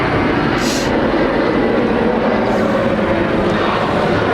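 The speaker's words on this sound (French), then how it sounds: "on va laisser passer l'avion" Airplane passing overhead outdoors, a loud, steady, rumbling engine roar filling the whole stretch without pause.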